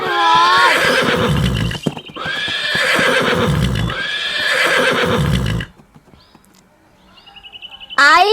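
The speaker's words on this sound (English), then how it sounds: "H for horse. H for horse." Three loud, close horse whinnies in a row, each a long wavering squeal, followed by a quieter pause and a faint chirp.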